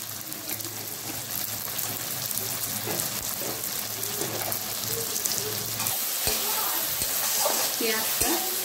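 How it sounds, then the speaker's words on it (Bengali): Chopped onions sizzle and crackle in hot oil in a pan for fish kalia, a steady frying hiss with occasional stirring clinks and scrapes toward the end. "পেঁয়াজটা ভাজা হয়ে গেছে"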